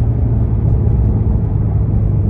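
Ford Mustang GT350 engine heard from inside the car while driving, a steady low rumble and road drone with no sharp revs, continuous and fairly loud throughout.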